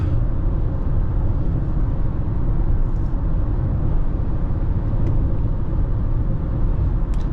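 A 2024 Honda CR-V Sport L Hybrid cruising at about 65 mph on a decent road, with a steady, loud low rumble of road and engine noise throughout and no talk.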